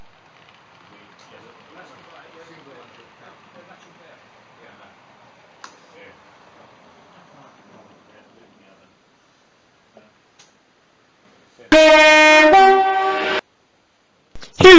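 Faint distant voices and quiet ambience at Shrewsbury Station, then a loud horn blasts for a couple of seconds as a Virgin Voyager diesel passenger train pulls away.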